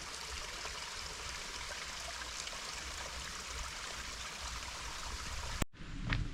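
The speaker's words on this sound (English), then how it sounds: "Oh, that one streams left and right." A small stream of water flows outdoors in France near Lac de Kruth and Lac des Corbeaux, a faint, steady trickling rush that continues evenly, then breaks off near the end.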